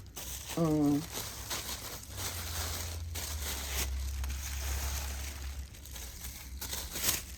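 Tissue paper crinkles and crushes in short handfuls as it is tucked into a gift box, fairly close and soft, with a brief voice-like tone near the start.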